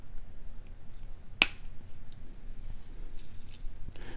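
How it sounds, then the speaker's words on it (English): A single crisp snip of wire cutters through jewelry wire while making earrings, close and isolated against a quiet background. "and we'll snip"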